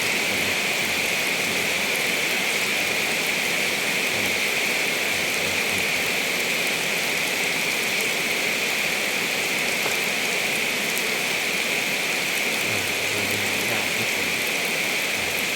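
Heavy rain pours steadily outdoors in Thailand, a dense, even hiss of falling drops that stays loud and unbroken from start to finish, with no voices.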